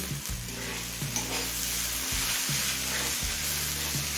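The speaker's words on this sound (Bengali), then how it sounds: "এবার মিডিয়াম ফ্লেমে সমস্ত সবজি সিদ্ধ হয়ে আসা পর্যন্ত ভেজে নেব" Mixed vegetables sizzle in a pan over the flame, with a loud continuous fry and regular stirring strokes roughly once a second, no voices.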